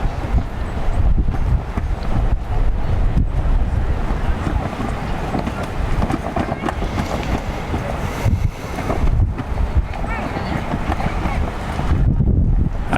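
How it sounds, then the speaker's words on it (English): Wind gusting across an outdoor youth soccer field during a U19 match, a loud steady roar of buffeting microphone noise throughout with brief lulls, faint voices underneath. "You can tell by the trees in the background how much the wind is blowing"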